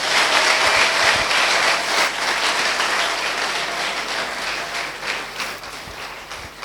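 Applause from a church congregation rings out as a broad, steady wash of many hands clapping, easing off gradually over several seconds before an abrupt bump at the close.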